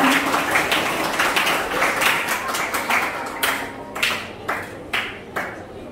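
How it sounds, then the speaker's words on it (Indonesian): An audience at a school graduation ceremony claps, starting as a broad scattered patter and thinning into separate sharp claps that keep repeating toward the end. "Kita tepuk tangan ya."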